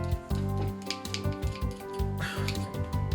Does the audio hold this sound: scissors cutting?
yes